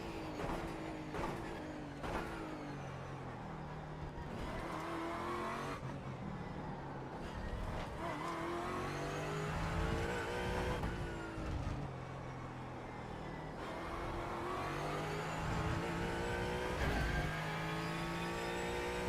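Race cars run hard on a track, engines revving and roaring through repeated gear changes as several cars pass close by in quick succession, a steady loud blur of engine noise with no talk.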